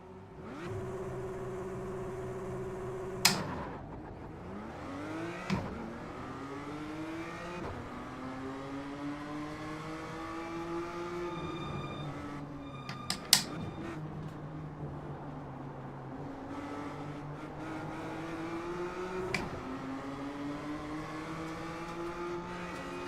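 A BMW M2 CS engine revs hard around the Tsukuba circuit, rising and falling through repeated upshifts with sharp pops at each change, loud and close throughout with no talk.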